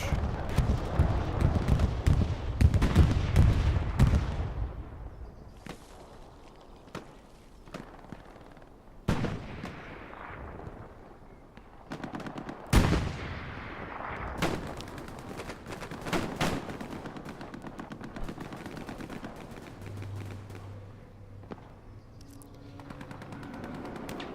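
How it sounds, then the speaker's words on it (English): A bomber run passes over a garrison in the World War II shooter Hell Let Loose, a competitive 49-versus-49 match on the Driel map, with heavy explosions and bursts of gunfire, loud at first and then scattered, sharp cracks recurring throughout. "Bomber run coming into the bottom, going over the garrison."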